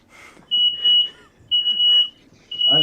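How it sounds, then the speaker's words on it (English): A smoke alarm goes off while steaks cook, letting out loud piercing beeps in a steady pattern of about one per second, with faint voices underneath. "Fire alarm going off."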